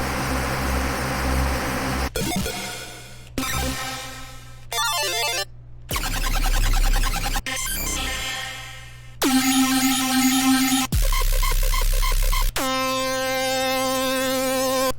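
A run of short synth lead notes, each a separate bright, buzzy tone with a different timbre, played one after another with brief gaps and no voices.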